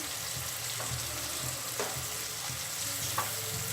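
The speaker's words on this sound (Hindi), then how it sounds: "उसके बाद इसमें मैं ये डाल रही हूँ चाय पत्ती का पानी।" Steady frying sizzle of chana masala spices in a hot pan, with tea-leaf water being added, continuous crackle with a few soft stirring knocks, close and alone.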